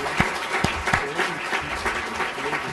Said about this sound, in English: So I want to give them a round of applause